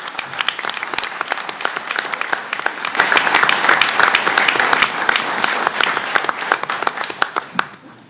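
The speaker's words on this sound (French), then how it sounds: "Je pense que ça vaut une bonne main d'applaudissements." Audience applause at a city council meeting in Châteauguay, a steady wash of many hands clapping that swells in the middle and tapers off at the end, with no talk over it.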